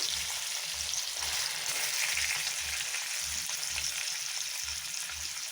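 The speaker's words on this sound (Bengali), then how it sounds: "মাছগুলো ভেজে নিই, প্রথমে ভালো করে ভেজে নেব" Fish fries in a pan of oil, giving off a dense, continuous sizzling hiss that stays steady and close throughout, with a faint low rhythmic thumping underneath and no voices.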